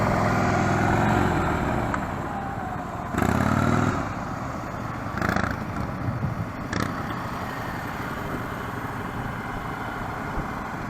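A motorbike during one-on-one riding training, its engine droning steadily with a few louder surges as the throttle opens, fairly close and continuous without talk.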